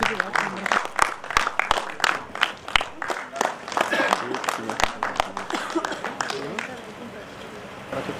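An audience applauds at a film festival ceremony in India, a steady patter of many hands clapping with some sharper individual claps, while an announcer's amplified voice carries over it.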